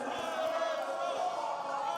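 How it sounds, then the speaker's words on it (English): A wrestling event crowd fills the arena with a steady, dense roar of many voices, loud and continuous throughout with no single voice standing out. "Listen to that crowd."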